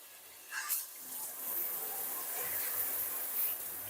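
A rainfall shower head runs steadily, giving a continuous broad hiss of falling water with a brief splashy burst near the start, close and even.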